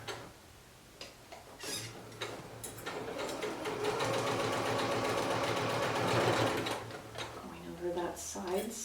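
Sewing machine stitching the side seam of a man's pioneer-style shirt, a rapid mechanical ticking that builds into a sustained whirring run, close and clear, with a voice talking over it at times.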